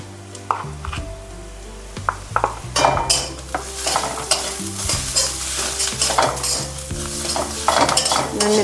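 Ground spices with garam masala, cumin powder and salt dry-roast in a dry kadai over low gas, with loud close stirring scrapes and clinks of a spoon against the pan over a faint sizzle, no voices.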